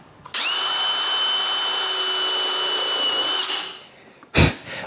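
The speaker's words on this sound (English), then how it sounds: "When the paint is dry, I can screw the lid to the box." A power drill drives a screw to fix a lid onto a wooden box, a loud steady whine lasting about three seconds before cutting off, followed by a single sharp knock.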